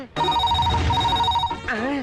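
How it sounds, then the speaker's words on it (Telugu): A telephone rings with a steady, trilling electronic tone for over a second, briefly breaking once, then stops as a voice begins speaking. "అయ్యో ఫోన్ మోగేసింది"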